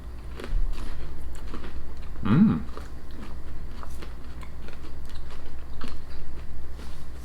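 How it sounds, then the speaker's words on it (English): A single loud bite into a spicy Indian snack from a snack box, a short crunchy burst standing out against a steady low background. "You took a big bite out of it."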